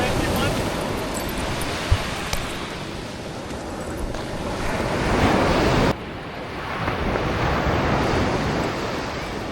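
Ocean surf breaking steadily on a chilly beach in coastal Maine, a broad continuous wash with wind buffeting the microphone and a brief dip partway through.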